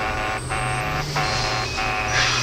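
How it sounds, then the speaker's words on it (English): An electronic alarm blares in a space video game as an asteroid approaches, a loud, steady warning tone pulsing in regular beeps with no talk over it. "What's that alarm?"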